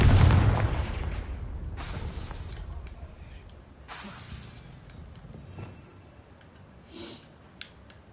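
A Confringo blasting spell from the Hogwarts Legacy game goes off as a loud opening boom that decays into a long rumbling tail. Fainter crackles and short magical swishes follow across the rest of the clip.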